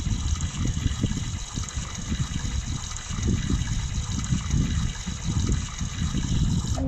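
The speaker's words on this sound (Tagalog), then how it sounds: "Shower time." Running shower water in the Brookhaven roleplay game, a steady gushing splash with rhythmic low surges that continues unbroken for several seconds.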